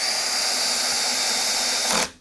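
A cordless drill whirs steadily at close range for about two seconds with its torque setting turned down, then cuts out abruptly as it stops, with no talking over it.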